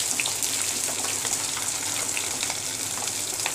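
Onion fries in a hot pan with a steady, close, crackling sizzle and scattered pops that carry on evenly throughout, with no voices.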